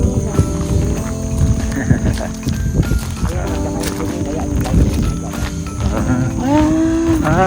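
Horse hooves clip-clop along a riverside ranch trail at a resort, a steady walking rhythm mixed into busy outdoor ambience with people chatting and other livestock nearby.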